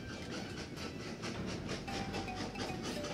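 Trains rolling along the tracks in the video game Train Valley, a steady clattering rhythm with faint hiss, continuous and moderately quiet, with no talk over it.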